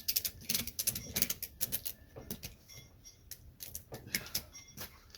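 A ratchet strap is cinched around a tire to reseat its bead on the rim, giving rapid, close clicking and ratcheting bursts in uneven runs.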